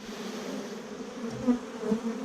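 A dense swarm of honey bees buzzing close by as a beehive frame gets shaken, a steady droning hum that swells briefly twice, with no one speaking.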